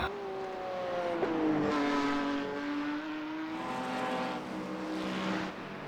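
Race car engines on the Nurburgring in a racing video game as a TCR car passes an MX-5, a steady whining engine drone with pitch sweeping down and up across several seconds.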